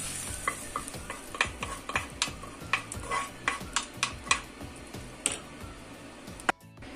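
Onion, bell pepper and mushrooms stirred in a frying pan, with a steady run of scraping utensil strokes over a soft sizzle, close and fairly loud, ending with a sharper knock.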